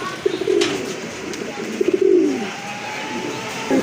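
Domestic pigeons of a fancy breed coo in soft repeated bursts, close by, over a steady background hum with a faint whistle-like tone.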